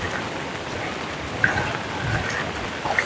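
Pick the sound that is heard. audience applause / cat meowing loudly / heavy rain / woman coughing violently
heavy rain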